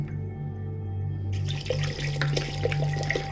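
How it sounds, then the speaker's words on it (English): Three litres of water pour and splash into a metal pan already holding water for chicken and vegetable soup, a steady gushing stream with a low hum in the background. "Now we're going to add the water."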